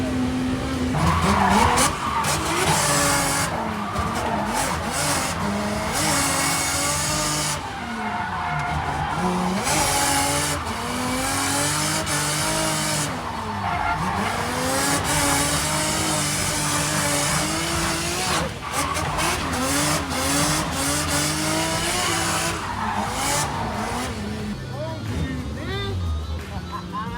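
A car drifting on a winding mountain road, tires squealing in long sustained screeches as the engine revs and surges, loud and close throughout, with people talking excitedly over it.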